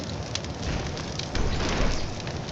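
A car burning in the video game Garry's Mod gives a loud, steady crackling roar of flames, a dense noisy rush that swells slightly midway, with no voices.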